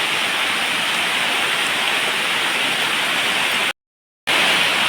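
Steady, dense roar of a flooded river rushing after heavy rain fills the clip, broken by a brief dropout near the end before the rush resumes.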